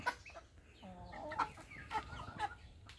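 Chickens cluck repeatedly in short, close calls as a group of young upgraded hens and roosters is released from their coop on a farm, with no talking.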